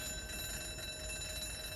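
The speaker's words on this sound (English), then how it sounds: "will someone get that blasted alarm switched off?" After a break-in, an alarm rings without a break, a steady electronic tone holding at one level over a low rumble, with no voices.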